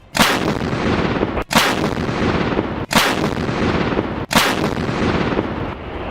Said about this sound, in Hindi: देखिए, यही है माउंटेड गन सिस्टम यानी MGS। ये तोप क्या कहर बरपा सकती है